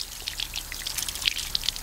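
Water splashes and trickles from a tap over the roots of a potted charcoal sarracenia pitcher plant, a close, uneven patter with small droplet hits and no talking.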